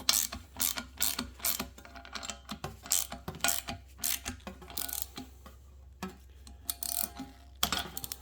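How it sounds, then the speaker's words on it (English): A hand ratchet tightens a nut on a fabricated panel for a Toyota Starlet KP61 racecar, giving bursts of quick, close, crisp clicking strokes with short pauses between them. "Then you take your nut, put it, snug it up"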